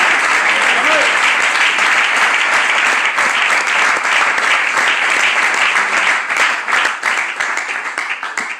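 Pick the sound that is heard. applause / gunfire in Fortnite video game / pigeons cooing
applause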